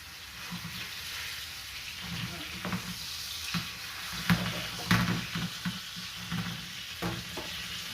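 Fajita meat and vegetables sizzling in a pan, a steady close frying hiss with scattered crackles and a few louder pops and spoon scrapes as the food is stirred.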